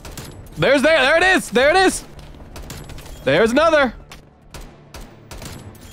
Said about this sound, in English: I shot my teammate in the process, but that's okay.